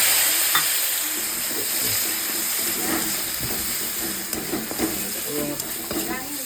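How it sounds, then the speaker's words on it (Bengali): Coriander powder with a splash of water cooks in a pan for ghugni, making a constant hissing sizzle with light stirring clatter throughout and a faint voice underneath. "এরপর এর মধ্যে দিয়ে দেবো ধনে গুঁড়ো, অল্পখানি দিয়ে দেবো জল,"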